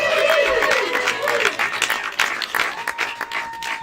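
Studio audience applause and cheering greet a comedian taking the stage on a late-night talk show, a dense, loud wash of clapping that starts strong and then thins into scattered claps.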